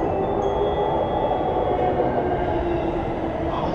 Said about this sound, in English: Now I'm going to wait for the train to come into frame.